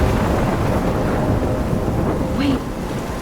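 Steady rain and rumbling thunder in a Life is Strange storm, a continuous wash of downpour with low rolling rumble throughout, wind noise mixed in and a brief tonal effect near the end.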